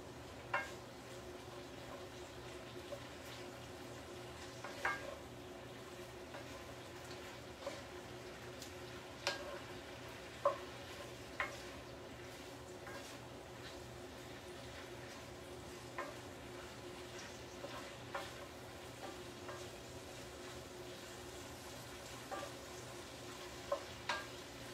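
Pasta being tossed and stirred in porcini butter sauce in a pan, a soft continuous sizzle with faint scattered ticks and clinks of utensil against the pan, steady and fairly quiet throughout.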